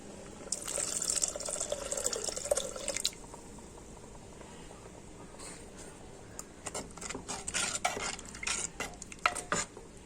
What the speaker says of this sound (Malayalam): ഇനി നമ്മൾ പിഴിഞ്ഞ് വെച്ച പുളി ഇതിലേക്ക് ഒഴിച്ചു കൊടുക്കാം